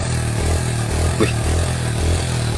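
A classic motorcycle engine idles and revs with a steady low, rumbling pulse close by, and a brief exclamation from a person breaks in partway through.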